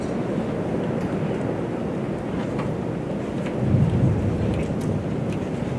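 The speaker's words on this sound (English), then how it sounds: "It's raining out there." Rain with a thunderstorm outside during a city meeting, a steady broad wash of rain noise with a low rumble swelling briefly toward the end, no voices over it.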